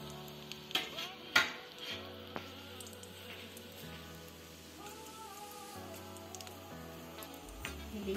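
Small khurmi dough pieces fry in hot oil in a pan over low heat, a steady close sizzle broken by a few sharp clinks and scrapes of a spoon gently stirring them.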